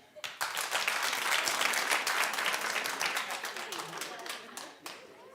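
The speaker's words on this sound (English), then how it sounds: "Clap if you did." A studio audience at a talk show claps in a burst of dense, moderately loud applause that swells quickly and holds steady for several seconds before thinning out toward the end.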